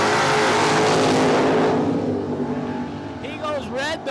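Drag racing cars, a Beretta against a Nova, roar loudly in a dense engine blast that slowly fades as they pull away, with a commentator's voice over the end.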